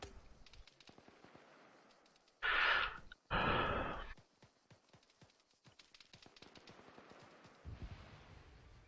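Gunfire in the Arma 3 military game: scattered sharp shots crackle faintly throughout, punctuated by two loud, harsh bursts close together early on and another heavy burst near the end.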